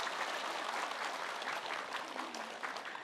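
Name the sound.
applause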